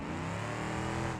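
Car engine revving hard in the BeamNG.drive driving game during an endurance torture run, a loud, sustained harmonic drone with no voices.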